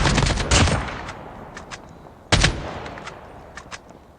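Gunfire in the mobile video game Call of Duty Mobile comes as short bursts of sharp shots, with two heavier volleys and several lighter single cracks scattered across a few seconds.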